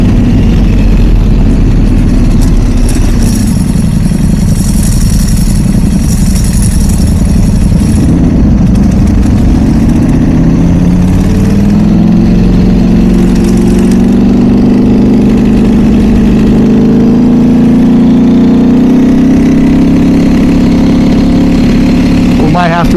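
A 2008 Ducati Desmosedici sport motorcycle engine idles loudly and up close, a deep steady rumble that rises and settles as the throttle is blipped, with no talk over it.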